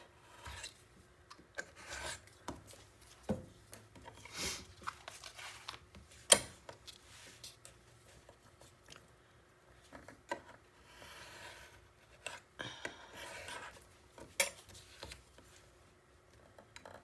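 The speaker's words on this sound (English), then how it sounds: "I'm going to cut right on my white mat" Paper is cut on a white cutting mat with a hand tool, giving faint, scattered scraping and rasping strokes between quiet pauses.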